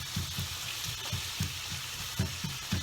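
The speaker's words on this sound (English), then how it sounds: "now I have the tofu in here. I'm cooking that, kind of chopping it up as I go along, mixing it nicely with the onions" Crumbled tofu fries with onions in a hot pan, a close, steady sizzle with rhythmic scraping thumps as the mixture is chopped and stirred.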